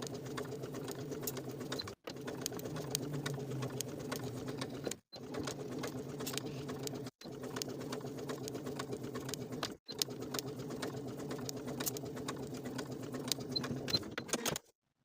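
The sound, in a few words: sewing machine sewing the bottom of a wool jacket sleeve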